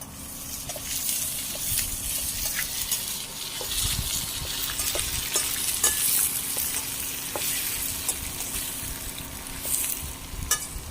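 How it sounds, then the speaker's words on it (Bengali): Sliced onion and capsicum fry lightly in a pan for chilli chicken, a steady close sizzle with frequent scraping stir strokes and small clinks throughout, no voices. "হালকা ভেজে নেবো, খুব বেশি ডিপ ভাজবো না, হালকা ভেজে নেবো।"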